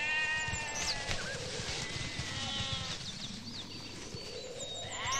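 Goats bleating in a rural setting, several wavering calls scattered through the stretch over steady background noise, with no talk.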